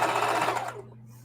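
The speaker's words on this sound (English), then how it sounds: "I'm just stitching up the front" A sewing machine stitches old jeans into a tote, running loud and steady for most of a second before stopping, leaving a low hum.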